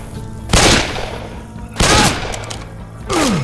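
Gunfire in the zombie shooter Left 4 Dead 2: three loud, separate bursts of shots about a second apart, each ringing out over a low game background hum.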